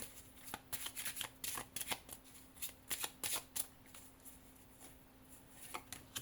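Playing cards drawn one at a time from a deck during a tarot-style reading, making soft papery slides and light snaps in a loose, irregular series, close and fairly quiet, with no talking.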